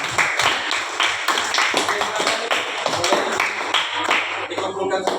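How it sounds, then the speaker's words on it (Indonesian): Classroom applause for a student group after a presentation, a dense patter of many hands clapping steadily and fairly close, with some voices mixed in. "kita beri tepuk tangan untuk kelompok"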